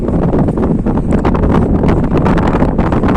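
Strong wind on a beach during a dust storm buffets the microphone in a loud, rumbling roar with gusty fluctuations and no voices.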